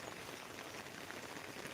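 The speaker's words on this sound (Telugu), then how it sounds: "ఇప్పుడు వర్షం అయితే కురుస్తుంది" Rain falling steadily over a village, a soft, even hiss of drops on surfaces that continues unchanged and fairly faint throughout, with no voices.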